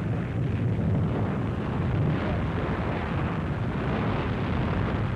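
A deep, continuous roar of Mount Vesuvius erupting rumbles without pause, heavy low-end thunder with wind-like buffeting, loud and steady throughout.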